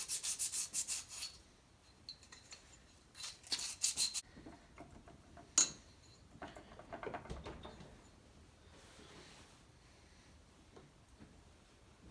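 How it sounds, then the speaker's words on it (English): A part and magnet from a 1960s McCulloch chainsaw sanded by hand in a workshop, with quick rhythmic rubbing strokes in bursts, then quieter scraping and light taps. "Sand off the side of this one more time, especially the magnet."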